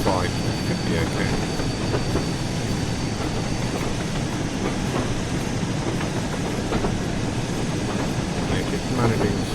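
A steam train in the Train Sim World 4 video game runs on the West Somerset Railway, with a continuous rumble of wheels on rails and rhythmic clicks and clatter, loud and steady.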